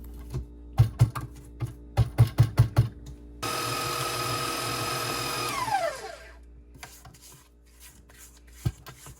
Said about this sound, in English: it's a very important step in this process of creaming your butter and sugar